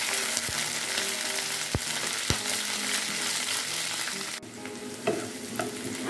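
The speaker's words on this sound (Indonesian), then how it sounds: "Kita goreng sebentar bumbu-bumbu yang kita iris-iris tadi." Shallots, garlic and bird's-eye chilies fry in hot oil with a steady close sizzle, stirred occasionally with soft clinks of a utensil against the pan; no voices.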